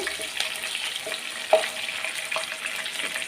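Fried spices, including shahi jeera, stirred in hot oil in a pan, a steady close sizzle with soft scraping and a light knock of the spoon against the pan, no talk.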